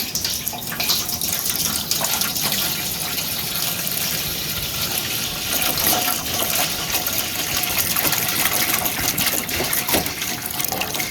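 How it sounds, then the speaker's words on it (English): A gallon of water pours in a steady, continuous gush, splashing into a container for the whole stretch with no talking. "we're going to go ahead and add our gallon of water here"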